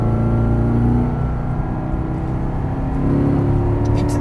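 Corvette Stingray on a race track, engine note rising as the throttle is reapplied out of a corner, loud and close, dipping briefly and then climbing again with revving harmonics.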